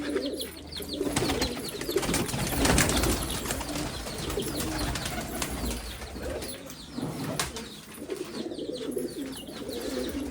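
Pigeons coo steadily in a loft where birds sit on eggs, with soft overlapping calls, occasional wing flaps and rustling throughout, close and moderately loud.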